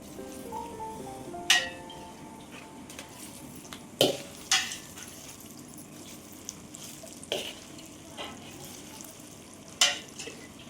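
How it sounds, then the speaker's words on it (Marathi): Red chilies fry in hot oil for a raw mango pickle, giving a steady close sizzle and bubble with a few sharp clinks of a utensil against the pan. No one speaks. "लाल मिरच्या तळून घ्यायच्या."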